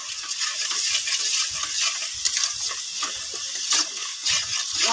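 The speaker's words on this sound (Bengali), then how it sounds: "মশলাটাকে একটু ভালো করে কষিয়ে নেব।" Spice paste of ginger, garlic, cumin, onion, cardamom, chilli and turmeric sizzles in oil in a pan while a spoon scrapes and stirs it in steady, repeated strokes, close and moderately loud.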